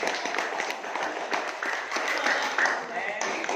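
A junior high school class claps together in a classroom lesson, a brisk, fairly even patter of hands under a teacher's voice.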